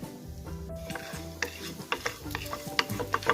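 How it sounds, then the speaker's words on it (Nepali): Pumpkin seeds dry-roasting in a pan over a very low flame for a spicy pickle give off a steady sizzle with scattered sharp pops and crackles that grow more frequent. "हेर्नुहोस् है, यो मजाले पड्किन थालिसकेको छ।"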